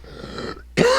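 One loud, abrupt cough with throat clearing from a man giving a Torah lesson, heard near the microphone after a moment of quieter sound.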